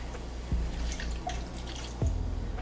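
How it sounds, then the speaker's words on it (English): Water pours into a pan in a home kitchen while cooking a cream cheese sauce, heard as a couple of soft splashes and drips, close and modest in level, with no talk. "Okay, about half a cup of water."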